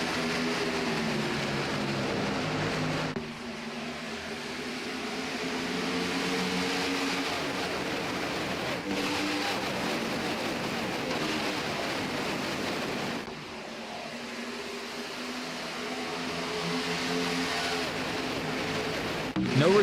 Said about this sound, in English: here we go, 27 V8s ready to roar to life